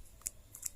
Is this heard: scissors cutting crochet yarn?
yes